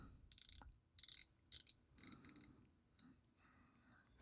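Bezel on a Szanto 5101 500m diver watch with big castellations, slightly loose, being turned by finger in several short bursts of close, crisp ratcheting clicks separated by brief pauses.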